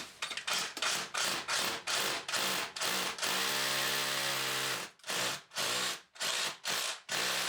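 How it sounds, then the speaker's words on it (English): An SDS drill bores a 7mm hole into a wall for mounting a burglar alarm, heard as a series of short hammering bursts, then one sustained grinding run of about two seconds, then more short bursts, loud and close. "we're going to drill a 7mm hole using the SDS drill"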